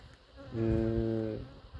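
Honeybees buzz around a beehive that was split several times in one season, one bee's steady drone swelling close and loud for under a second before fading back into a quieter outdoor background.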